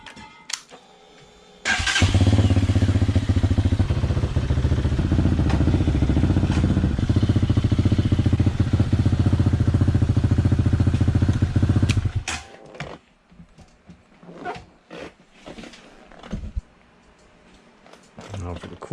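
A 2021 Hawk 250 DLX EFI motorcycle engine starts and idles loudly and steadily close by for about ten seconds while warming up, then shuts off, leaving faint handling noises.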